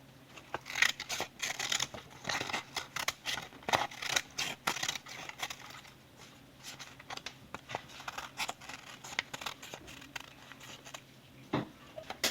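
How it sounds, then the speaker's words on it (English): Scissors cut a circle from thick paper for a rabbit craft, a steady run of close, crisp snips and crunching blade closes repeating through the whole stretch with no talking. "you're just going to cut a circle that is probably as big as the hole in the tape"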